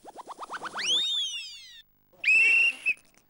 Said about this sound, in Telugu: విజిల్ గట్టిగా విజిల్ వేసి గట్టిగా పాట పాడాలి